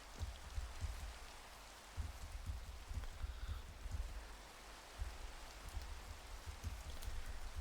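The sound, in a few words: rain falling while working outdoors at night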